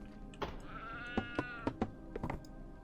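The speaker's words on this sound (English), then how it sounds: "Was that supposed to be a cat? Because it sounded more like a... I don't know, dying sheep." A video game cat lets out strained, wavering bleats that sound like a dying sheep, several short quavering cries with a longer drawn-out wail, fairly quiet with soft clicking in between.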